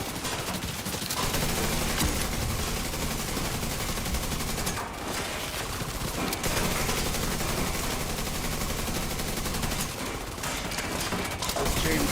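Dense, nonstop automatic gunfire in The Division 2, a loud sustained barrage of rapid shots scoring headshots that runs for the full length with only brief dips.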